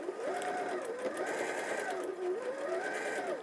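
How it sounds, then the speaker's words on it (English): A sewing machine stitches steadily around the edge of layered Moda and Lewis and Irene fabric, its close, continuous motor hum and needle clatter running unbroken with slight rhythmic swells. "just sew around the edge."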